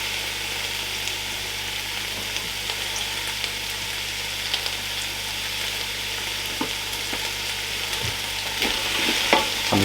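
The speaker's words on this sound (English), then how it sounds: "we're going to go in with the onions and the garlic. And we're going to fry these off for about 6 to 7 minutes." Chopped onions and garlic fry in the pot of a Ninja Foodi Max pressure cooker for a lamb tagine. A steady close sizzle runs throughout with occasional light spoon taps, and it grows a little louder near the end.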